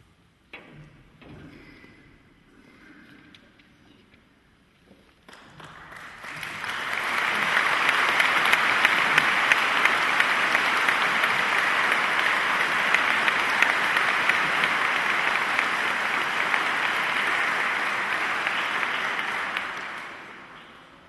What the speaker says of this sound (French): Je craignais que vous n'osiez pas applaudir.